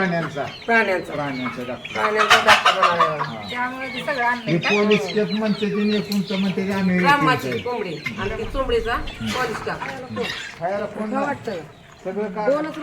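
Desi hens cluck and chatter on a farm in a pomegranate orchard, with repeated close calls heard under continuous talking.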